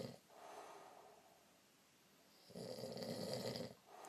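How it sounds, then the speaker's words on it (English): A man snoring loudly while asleep, two long rasping snores separated by a quieter breathing pause, close and fairly faint overall. "you're snoring incredibly loud."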